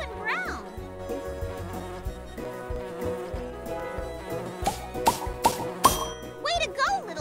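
Cartoon bee buzzing from a children's nature show about pollinators, a wavering insect drone heard over a busy music bed with boings and plops.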